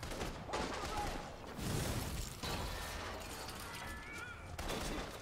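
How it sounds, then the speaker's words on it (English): In the video game inFamous Second Son, gunfire rains toward the player in repeated bursts and rattling volleys, with crashes and mechanical noise mixed in, heard fairly quietly throughout. "Who is shooting at me?"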